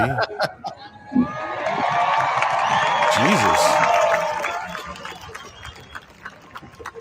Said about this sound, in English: That's like a concert crowd.